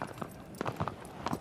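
Horse hooves clip-clopping in a video game about fighting colossi, a quick uneven run of close, crisp hoof strikes on hard ground with no voices.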